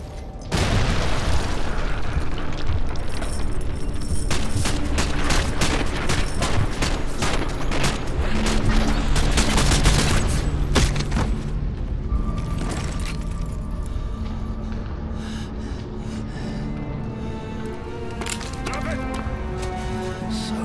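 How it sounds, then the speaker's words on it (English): Heavy bombardment in the Call of Duty Modern Warfare 2 Remastered campaign, with loud, sustained explosions and crackling gunfire rumbling for several seconds and then easing into a quieter drone, with voices speaking over it. "They started the bombardment early."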